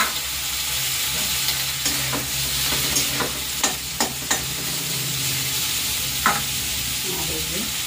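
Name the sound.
tomato, green chilli and ginger masala frying in pan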